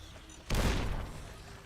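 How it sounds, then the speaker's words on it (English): Frag mine explosion in the video game Fallout New Vegas: one sudden loud blast that hits hard and then fades into a rumbling tail, with no talk during it. "Is that a frag grenade? That was a frag grenade."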